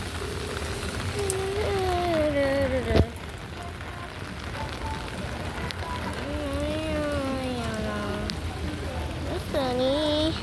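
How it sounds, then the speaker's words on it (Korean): Heavy rain hammers down in a steady, dense patter, with voices talking and exclaiming over it throughout. "비가 진짜 많이 와요"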